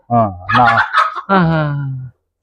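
A rooster on a farm crows loudly and close by, one long harmonic call broken into two strained phrases, heard alone without talk.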